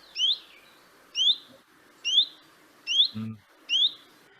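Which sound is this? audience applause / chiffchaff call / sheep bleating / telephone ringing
chiffchaff call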